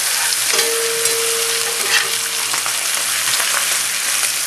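Browned beef sizzling in a hot pan for a chivito sandwich, a loud, even, continuous frying hiss from start to finish.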